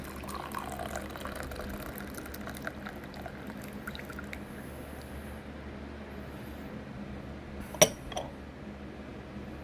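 Steeped Yunnan white tea, a 2024 pressing, pours in a steady, soft trickle with no talk, and a single sharp clink rings out near the end.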